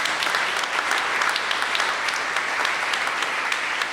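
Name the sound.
audience applause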